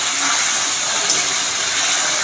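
Spice paste for a potato and soybean curry fries in hot oil in a pan, a loud, close, continuous hiss with no breaks.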